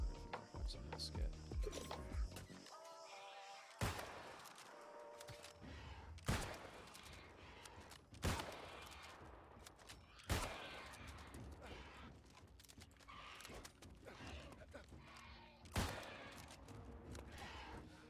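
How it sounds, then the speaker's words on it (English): Musket shots ring out in the video game New World, several sharp, loud reports spaced a few seconds apart, each with a short decaying tail, over game background sound. "you really gotta headshot these guys to get any type of real damage on them with this musket"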